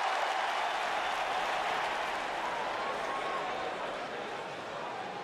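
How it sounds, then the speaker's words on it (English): A video game crowd in an Atlanta wrestling arena applauding after a match, a broad, even wash of clapping and cheering that fades slightly, with commentary voices over it. "This Atlanta crowd showing their appreciation for a great match."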